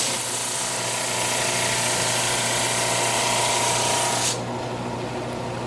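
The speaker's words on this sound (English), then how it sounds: "So watch what happens when I sand the varnish here." A Flatmaster sander grinding through a varnished surface, a loud steady raspy whir that runs continuously and then drops sharply to a quieter hum near the end, with no voices.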